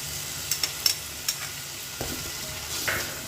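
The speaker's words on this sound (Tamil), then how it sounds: "உருளைக்கிழங்கையும் போட்டு நல்லா வதக்கிக்கலாம்." Potatoes sautéing in a pan with tomato, green chili and curd, giving a soft steady sizzle broken by several sharp spatula taps and scrapes against the pan, with no talking.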